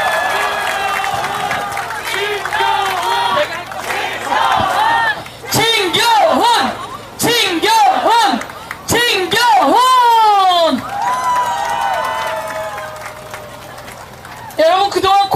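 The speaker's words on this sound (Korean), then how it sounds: "진경훈에게 박수를 보내시기 바랍니다" Crowd at a Democratic Party campaign rally for the Gangseo district mayor by-election in Seoul, cheering, chanting and clapping in loud bursts, with amplified voices shouting over the noise.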